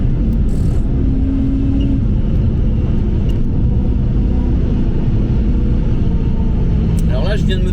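Supercharged BMW M3 E92 driving and accelerating, a steady loud low engine rumble filling the cabin from start to finish.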